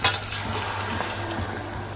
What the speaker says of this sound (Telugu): వాటర్ పోసేసుకుంటున్నా